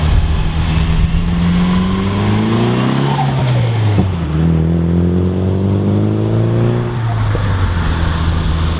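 Nissan S14 exhaust with a 200-cell metal Magnaflow cat, Magnaflow mid muffler, X43 muffler and mild steel piping, revving loudly in rising and falling sweeps with a steady deep drone between, close and alone.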